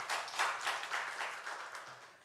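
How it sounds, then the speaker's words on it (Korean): Applause from a church congregation during a Korean Sunday worship service: a short burst of many hands clapping together, steady and moderately loud, fading slightly toward the end. "우리 하나님께 영광의 박수 올려드리겠습니다."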